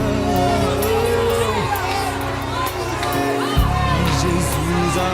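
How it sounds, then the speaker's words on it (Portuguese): A crowd clamors and shouts in a dramatized Easter cantata scene, a loud mass of voices and cries layered over sustained musical accompaniment, with no single voice standing out. "Posso ouvir o clamor da multidão"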